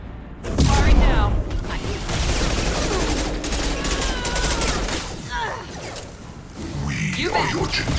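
Bursts of gunfire from the Mass Effect 2 Legendary Edition video game on Insanity difficulty, played as a Sentinel, rattling along steadily over a dense battle mix with voices calling out in combat.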